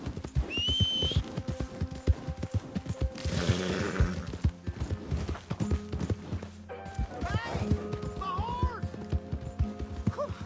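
Horse hooves clip-clop steadily in a video game, with whistles and speech-like game dialogue layered over the rhythmic footfalls.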